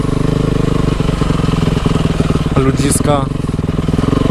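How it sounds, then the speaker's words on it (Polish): A Yamaha YZF 450 dirt bike idles in a garage with a loud, close, rapid engine pulse and slight revving. Someone speaks over the engine as it runs. "Yamaha YZF 450 mojego kumpla"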